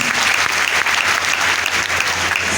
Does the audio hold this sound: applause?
yes